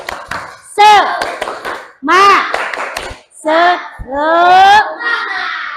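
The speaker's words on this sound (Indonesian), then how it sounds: "Tepuk semangat" Children chant a rhythmic 'tepuk semangat' clapping cheer in a classroom lesson, sharp hand claps cutting between bursts of high, sung voices in a quick, patterned beat.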